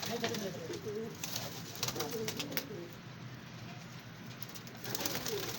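A loft of around 33 pigeons coos in a soft, continuous murmur of low rolling calls, with occasional sharper knocks and faint voices nearby.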